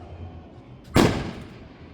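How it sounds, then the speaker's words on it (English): A single New Year's firework explodes in one sharp, fairly loud boom with a short fading tail, set against a quiet outdoor background with no talking. "They have a lot of fireworks."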